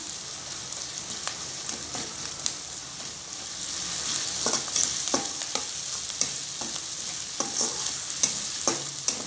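Onions frying with ginger garlic paste in a pan for idli manchurian, a continuous sizzle broken by repeated scraping stirs of a spoon, close and clear with no talk.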